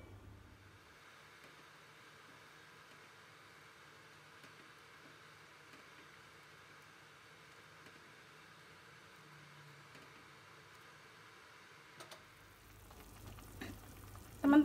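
A pot of spicy tofu soup with carrots simmers with a faint, steady bubbling hiss close by, ending in a few louder clinks and rustles.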